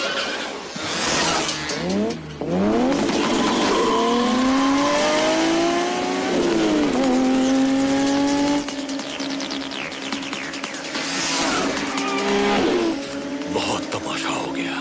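A car turns hard with tires squealing in long rising and falling whines over a revving engine, loud and close, with a second squealing burst toward the end and voices shouting over it.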